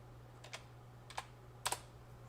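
A few soft, irregular clicks of one-handed typing on a computer keyboard, three or four isolated presses with a quick double tap near the end, over a faint steady hum.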